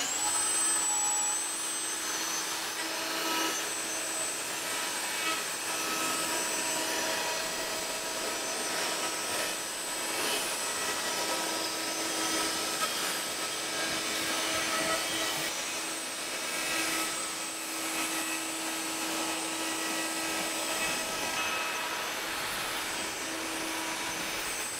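A woodworking router trims the edge of glued laminated wood for a lamp, producing a continuous high-pitched whine and roar that holds steady and loud for about twenty-five seconds, with no talk.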